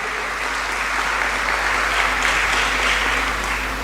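Audience applause at a university seminar launch, a steady, dense round of clapping that holds evenly for a few seconds with no voices over it.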